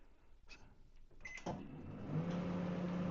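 Microwave oven heating a pre-cooked ASDA plant-based vegetable chilli on low power: a click and door clunk, then a steady droning hum with a tonal whine settling in, fairly quiet and close.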